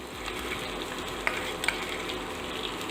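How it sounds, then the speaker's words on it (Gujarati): Mustard seeds splutter and crackle in hot oil, a steady sizzle punctuated by a few sharp pops, close and with no talking. "રાઈ આવી રીતે ફૂટે"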